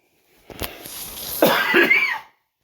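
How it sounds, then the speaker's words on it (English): A person coughs a few times in quick, rough bursts close to the mic, a throat-clearing rasp at the start, then a louder harsh cough trailing off into silence. "I'll be coughing a lot in these videos."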